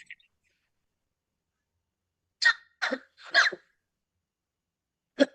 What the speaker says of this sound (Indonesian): Ternyata batuk itu lama ya.